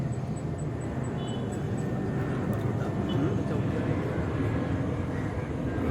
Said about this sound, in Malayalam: ഫ്ലൈറ്റ് പോകുന്നുണ്ടില്ലേ